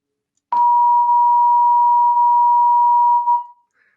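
Pure 1000 hertz tone from a perception class demonstration, starting abruptly after a brief silence and sustaining at a loud, even level for about three seconds before fading out, no voices present.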